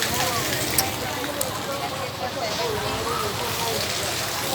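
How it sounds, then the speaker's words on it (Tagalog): Steady rain falling and pattering on surfaces outdoors, a dense even hiss with a couple of sharper drips, while people talk under it. "Ulan na naman."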